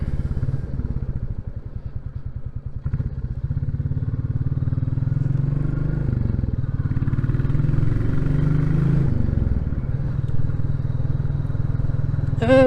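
A Royal Enfield Classic 350 motorcycle rolls downhill on a gravel road, its engine giving a steady low thump throughout, loud and close with no talk over it.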